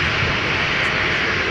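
United airliner taxiing past on a taxiway at Minneapolis–St. Paul airport in winter, a loud steady broadband jet engine roar filling the moment without break.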